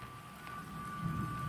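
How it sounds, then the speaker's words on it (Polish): Heavy rain falls steadily during a thunderstorm, a constant hiss that swells louder toward the end with a low rumble beneath, heard alone without voices. "Słyszymy grzmi, deszcz pada i coraz mocniej"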